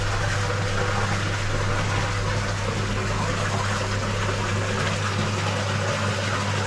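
Water from a koi pond pumps out during a water change, a constant gushing flow with a steady low pump hum, unbroken and fairly loud, no talking.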